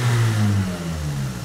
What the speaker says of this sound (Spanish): ahora el motor está andando